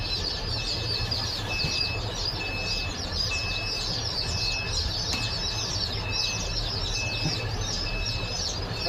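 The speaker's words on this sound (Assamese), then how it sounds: "হাঁহ মুৰ্গী একেলগে উঠি আছে" Duck and chicken chicks on a hatchery farm chirp together continuously, a dense, fairly faint twittering over a steady low hum.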